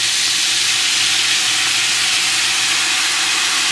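Soy sauce hits browned oxtails in a pressure cooker, giving a loud, steady, close sizzle with hissing steam that holds without a break and has no voices over it.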